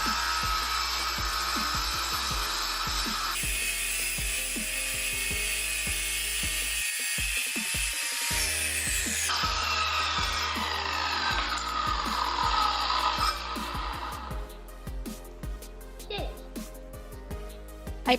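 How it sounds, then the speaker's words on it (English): A rented tile saw cuts ceramic kitchen backsplash tiles in a loud, high whine that runs almost continuously, with a brief pause partway through and a change in pitch as the blade bites into the tile. "Now I'm just going to cut the tiles into the shapes I need for the outlets and borders."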